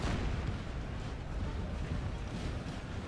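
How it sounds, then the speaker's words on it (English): Distant cannon artillery booms and battlefield rumble from Napoleon: Total War, a steady low roar of gunfire over a large battle with no clear individual shots standing out. "France has some artillery up here, which will provide some support and take out possibly a lot of troops as they move over this way"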